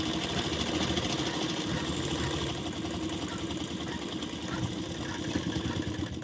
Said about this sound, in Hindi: तो अभी हम ऊपर से सिलाई लगा रहे हैं।